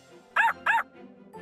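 A cartoon puppy barks twice in quick succession, short bright yips close and clear, followed by faint softer sounds in a quiet animated fairytale forest scene.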